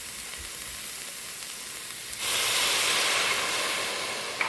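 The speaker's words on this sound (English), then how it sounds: "hear that sizzling song" A steady sizzle from turkey curry with garlic and onion in a hot pan, growing suddenly louder and brighter partway through as water is added and the hiss swells and holds.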